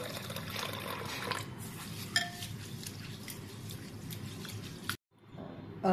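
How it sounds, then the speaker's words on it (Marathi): Rice, horse gram and urad dal being rinsed in a bowl of water, with steady sloshing and swirling, a brief splash, then a short pause before the swishing resumes. "धान्य आपल्याला स्वच्छ धुवून घ्यायची आहेत"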